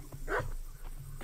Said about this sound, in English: Yeah, sorry, it was a dog.